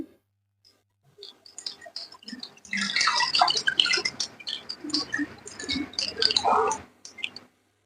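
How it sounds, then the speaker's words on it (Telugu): Tamarind broth poured from a mug into a pan of Andhra-style fish curry, wet splashing and dripping pours with small squishy clicks, close and moderately loud for several seconds after a quiet start. "ఇది కొద్దిగా పులుసు తీసుకుంటున్నాను, మగ్గు తీసుకొని వేస్తున్నాను"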